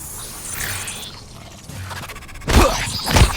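A wrench swung as a melee weapon in the sci-fi game Prey lands two heavy metallic strikes near the end, following quieter mechanical ambience and clanks.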